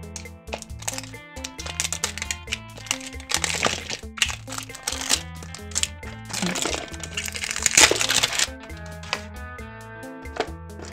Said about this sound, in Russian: Поэтому давайте скорее открывать.